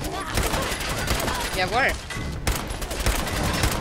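Gunfire in the Fallout 4 video game during a raider attack: a rapid burst of sharp shots crackles in quick succession, mixed with game sounds while someone speaks briefly.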